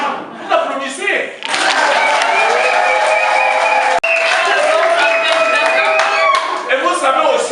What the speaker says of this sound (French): Eh bien, non, vous applaudissez.